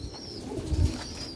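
Soft low cooing of Sialkoti pearl pigeons, a rare pure breed, heard close up in one short burst with faint chirps behind.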